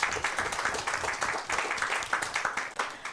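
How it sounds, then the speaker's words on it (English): A studio audience gives a round of applause for a talk show's crew, steady close clapping from a small crowd that lasts throughout without talk. "So they all deserve a big round of applause."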